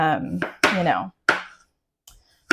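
A cucumber is sliced thin with a kitchen knife, giving three or four sharp, separate cutting strokes spaced unevenly, each with a short ringing tail, close and fairly loud with quiet gaps between.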